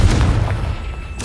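A Confringo fire spell detonating in the Hogwarts Legacy video game, a single deep, loud boom with a rumbling low-end burst that fades out over about a second.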